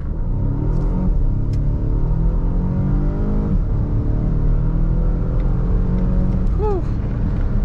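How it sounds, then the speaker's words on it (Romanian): A 455 hp car pulls away from a standstill, its engine a steady, continuous close-up rumble and roar that holds strong throughout the run, with a brief rising tone near the end. "hai să vedem cât de bine pleacă mașina asta cu 455 de cai"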